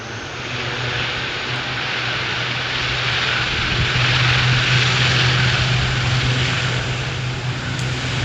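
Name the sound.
ATR turboprop airplane taking off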